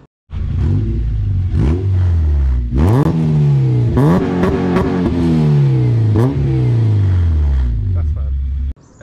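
Honda Civic EG with a K20 engine, S2K exhaust manifold and 2.5-inch exhaust with back box, revving repeatedly into VTEC; loud, close engine pulls rise and fall several times, with clattering in between.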